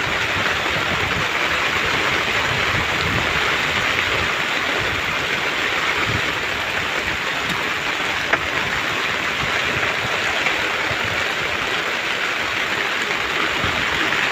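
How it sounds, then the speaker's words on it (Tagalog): Heavy rain roars without pause over open sea around a small fishing boat, a loud, dense, steady wash of noise with no voices. "Hindi pa humina yung ulan guys"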